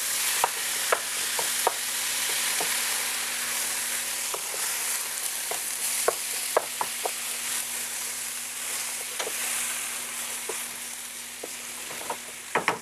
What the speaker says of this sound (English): we're now going to brown 2 pounds of lean ground beef, 1 chopped large onion, 1 teaspoon of pepper, and 1/2 teaspoon of salt